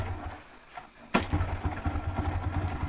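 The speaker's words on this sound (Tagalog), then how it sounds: "start natin ang ating motor." A motorcycle engine catches at about one second and settles into a steady, close idle, with a low rumble running continuously to the end after a quiet start.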